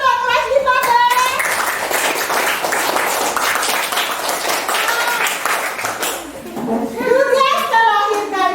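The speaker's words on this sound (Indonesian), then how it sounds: "Tepuk tangan untuk kelas 15." A fifth-grade class of children claps for a group in the classroom, a loud, dense wash of clapping framed by excited children's voices at the start and end.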